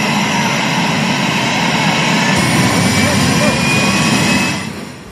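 A helicopter flies over Hampi during the Hampi Utsav festival, its engine a loud, steady broadband roar that fades slightly at the very end.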